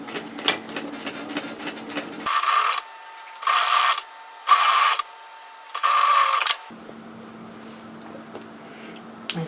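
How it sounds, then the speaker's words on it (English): Sewing machine stitching the neckline of a bodysuit, four distinct bursts of rapid whirring stitches separated by short pauses, with faint mechanical clicks and handling before and after. "turn that neckline over and stitch it into place"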